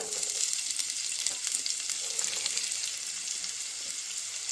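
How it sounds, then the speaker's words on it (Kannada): Onions frying in 6 to 8 spoons of oil in a pan for chilli chicken, a dense, even sizzle heard up close with faint stirring and no voices. "ಒಂದು 6 ರಿಂದ 8 ಸ್ಪೂನ್ ಎಣ್ಣೆ ಹಾಕೊತಾ ಇದ್ದೀನಿ. ಈರುಳ್ಳಿ ಹಾಕ್ತಾ ಇದ್ದೀನಿ."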